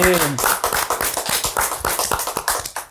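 A small audience claps for a band in a studio, a brief burst of close, sharp handclaps while a voice speaks over the start.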